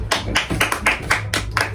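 Hand clapping of a small group, a rapid run of sharp claps at close range over a steady low background hum, with no talk over it, after a blind coloring contest under red LED light.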